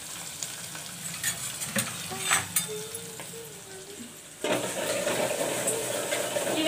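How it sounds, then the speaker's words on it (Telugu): Spices for miriyala rasam, a Telugu pepper broth, crackle in hot oil, a soft frying hiss with occasional stirring clinks that swells louder toward the end, heard alone and close. "ఇవి కొంచెం ఫ్రై అవ్వాలన్నమాట మాడిపోకూడదు"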